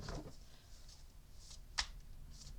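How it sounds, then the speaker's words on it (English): A deck of tarot-style cards being shuffled by hand, soft papery riffles and slides with one sharp snap of cards near the end, close and quiet with no talk. "let me give it another shuffle"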